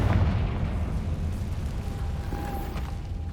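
A Confringo blasting spell from Hogwarts Legacy goes off as a single loud, dull boom with a rumbling tail that fades slowly over a few seconds.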